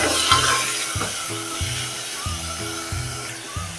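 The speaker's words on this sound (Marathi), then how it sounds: "हे आता चांगलं मसाल्याला आपलं तेल सुटेपर्यंत परतून घेऊया" Fresh ground masala paste and green peas fry in hot oil in a pan, a continuous close sizzle with light stirring, over soft background music.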